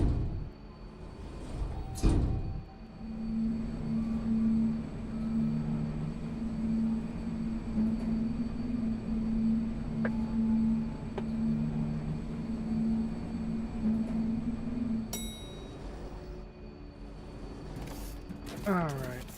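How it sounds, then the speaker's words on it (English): A personal train running in Foundry gives a steady droning hum and rumble with a sustained tonal whine, a brief clunk near the start and a sharp clatter toward the end. "this is my personal train"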